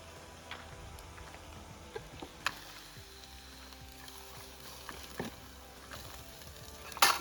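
Jackfruit vegetable being sautéed in a pan over a wood-fired chulha, a quiet, steady low sizzle with scattered stirring scrapes and clinks, and a louder clatter near the end.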